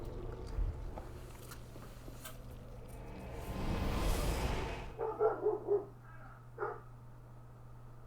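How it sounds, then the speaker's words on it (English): A dog barks indoors in the background, giving a short burst of several barks and then a single later bark over steady game sound and low hum. "I apologise if you caught my dog barking in the background."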